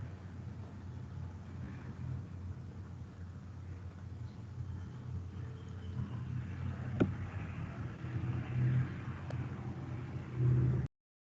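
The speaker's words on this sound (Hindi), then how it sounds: "वो थोड़ी सी ना ट्रैफिक गुजरी है तो उस वजह से हुआ है शोर।" Road traffic passing outside gives a low rumbling background, swelling as vehicles go by, with one brief sharp knock partway through. The sound is faint to moderate and continuous, with no speech.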